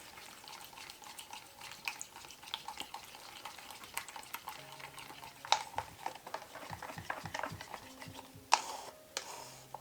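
Paint mixture being stirred in a cup for a dirty Dutch pour, a faint scraping and ticking of the stir stick against the cup's sides, soft and close, with occasional sharper clinks.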